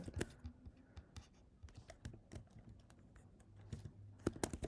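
Fast clicking keystrokes on a computer keyboard, irregular taps in quick bursts with brief pauses, close and fairly quiet.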